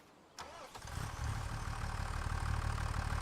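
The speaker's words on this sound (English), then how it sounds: "let's get into the tractor" A tractor engine in Farming Simulator 25 starts with a short crank and then settles into a steady, low rumbling idle that holds to the end, with no talking.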